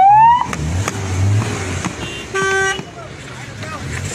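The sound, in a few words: cars and honking horns in traffic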